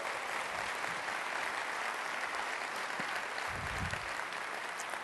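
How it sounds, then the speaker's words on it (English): An audience at a large conference gives a round of applause, broad steady clapping with a few cheers, moderately loud and unbroken throughout. "Let's just give them a round of applause."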